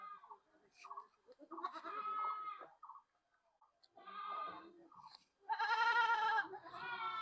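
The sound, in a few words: Beetal goat kid bleating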